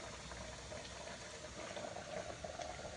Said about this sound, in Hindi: दाल उबल गई